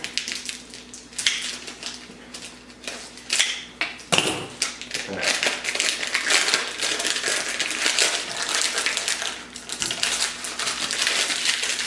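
Plastic packaging around cheese is cut open in a home kitchen, giving a run of crisp crinkles, snips and rustles that come in irregular bursts, close and fairly loud, with no talking.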